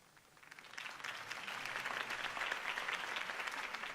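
Applause from a crowd in a Batman video game rises gradually and holds as a dense wash of clapping, somewhat distant and moderately loud.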